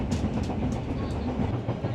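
Passenger train running across Java on rough, rocky track, a steady loud rumble of wheels and carriage rattle with faint irregular clacks throughout.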